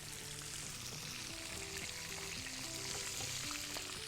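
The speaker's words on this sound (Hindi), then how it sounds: "चलिए जी, हमारे पास फ्राई हो रहे हैं।" White eggplant slices frying in hot oil in a pan, a steady crackling sizzle heard close and fairly soft, with faint musical tones running underneath.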